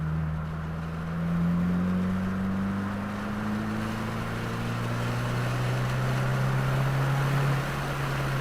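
2022 Subaru WRX on an open track day at Waterford Hills, engine note rising steadily as it accelerates, a sustained climbing drone heard from inside the car over road and wind noise.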